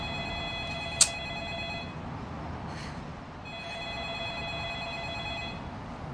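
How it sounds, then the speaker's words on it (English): Telephone ringing from the horror film The Ring, heard as steady electronic ring tones over a low background hum, quiet and slightly distant, with a brief sharp click near the start and no talk. "Did the phone ring?"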